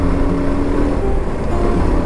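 A motor vehicle engine, heard during a motorcycle ride to a market, drones steadily and loudly throughout with a constant low hum and no clear pauses.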